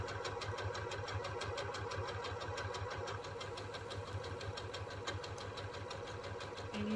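A sewing machine stitches quilt fabric for an Irish Chain quilt block, running as a steady, rapid, continuous whir of stitching close by with no pauses.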